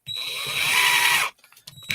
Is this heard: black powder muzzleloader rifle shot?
no